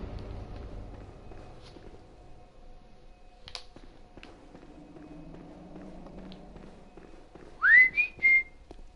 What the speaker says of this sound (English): I didn't say no whistling, so I can whistle.